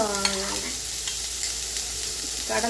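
Chopped onions sautéing in oil in a pan for a South Indian garlic fenugreek-leaf gravy, a steady close sizzle with light stirring scrapes, while a person speaks briefly at the start and end.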